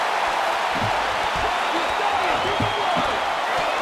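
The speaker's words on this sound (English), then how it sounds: "The crowd showing their support for John Bones Jones." Crowd noise from a UFC 3 Undisputed mixed martial arts video game bout featuring Jon Jones, a steady broadband roar of cheering arena spectators that holds level throughout, with commentary voices talking over it.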